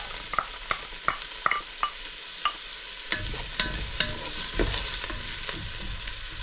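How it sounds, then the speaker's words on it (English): Onions hit hot vegetable oil and butter in a Ninja Foodi pot: first a run of sharp utensil clicks, then a loud, close, continuous sizzle that keeps crackling to the end. "I'm just going to add the onions."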